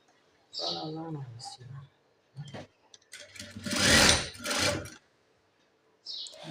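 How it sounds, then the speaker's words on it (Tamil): A sewing machine stitches the side seam of a blouse in a tailoring setting, running in a loud burst of a second or two between stretches of nearby talk. "இப்போ இந்த மூணையும் இப்படி தையல் கரெக்டாக போடணும்"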